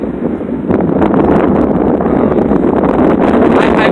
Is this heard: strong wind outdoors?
yes